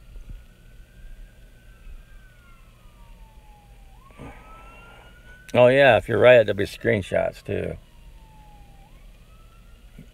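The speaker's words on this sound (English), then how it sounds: "I don't know if you can hear that siren. Popo's going after somebody." A police siren wails faintly in the distance, rising and falling slowly, while someone talks briefly in the middle over it.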